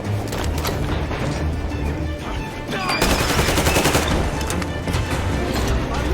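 Automatic gunfire in the video game Metro Exodus, dense rapid bursts of close shots layered with loud combat noise and crashes, building in intensity partway through.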